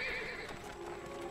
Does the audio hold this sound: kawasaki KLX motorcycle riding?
no